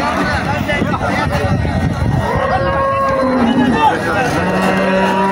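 Cattle mooing at a busy village cattle market in Cumilla, Bangladesh, long low calls rising over a steady background of crowd chatter and people talking nearby.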